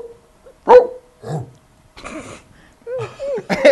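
A voice imitates a dog barking in a few separate short bursts, near and moderately loud, with brief gaps of quiet between the yelps.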